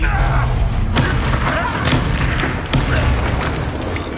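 A Confringo fire spell from Hogwarts Legacy blasts repeatedly during a busy fight. Several sharp booming bursts cut through a dense, loud wash of combat noise, with speech in places.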